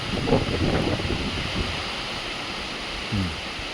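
A dense, steady roar of heavy monsoon rain fills the air among coconut trees, broad and continuous, with gusts of wind buffeting the microphone.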